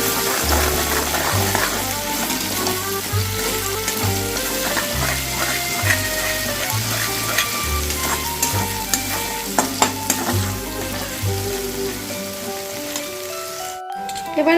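Chana masala with green chili paste sautéing in a pan, a steady loud sizzle with repeated stirring scrapes over rhythmic background music throughout.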